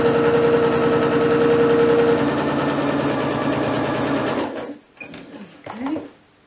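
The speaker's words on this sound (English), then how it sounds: "we're going to go up to my machine and I'm going to do a 1/4 inch seam allowance along here" A sewing machine runs steadily while stitching a quarter-inch seam on fabric for a sunglasses case and tissue holder, a loud continuous whir that stops abruptly, followed by faint fabric handling and rustling.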